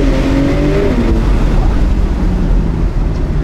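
Porsche 992 Turbo S engine revving hard on a winding road, a loud continuous rising roar heard from inside the car with strong wind rush and rumble, no talking.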